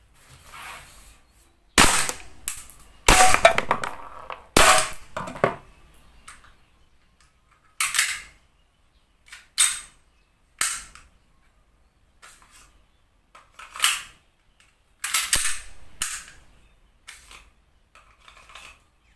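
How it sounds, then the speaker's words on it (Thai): Double Bell Glock 17 gas pistol fired as an airsoft replica, sharp snapping pops spaced a second or two apart, some in quick pairs, close and loud with faint mechanical clicks between and no talk. "เดี๋ยวเราลองยิงกันนะครับ"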